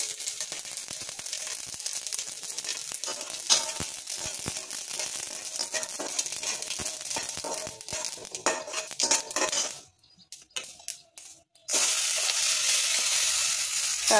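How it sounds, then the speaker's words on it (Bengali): Dried red chillies fry in hot oil, giving a dense, loud crackling sizzle broken by spatula scrapes and clatter against the pan, briefly fading before the sizzle returns strongly at the end. "তারপর এটার মধ্যে গরম হয়ে গেলে তেলটা শুকনো লঙ্কা দেব"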